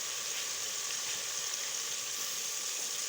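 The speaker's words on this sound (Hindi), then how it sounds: "ताकि प्याज के साथ ये भी फ्राई हो जाए।" Whole cumin seeds frying with onions in a pan give a steady, close, bright sizzling hiss that holds evenly throughout, with no voices.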